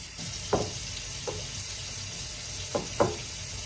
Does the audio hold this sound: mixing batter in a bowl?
yes